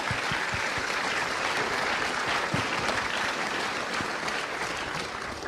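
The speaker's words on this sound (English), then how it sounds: "Give him a big round of applause." Audience applause filling a lecture hall, a dense, steady wash of many hands clapping at even loudness throughout, with no voices over it.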